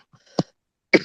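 Two sharp coughs from one person close by, separated by a short pause, with no other sound around them.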